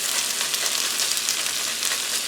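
Zucchini carrot fritter batter fries in hot oil in a pan, giving a steady, close, bright sizzle that stays even throughout with no talking.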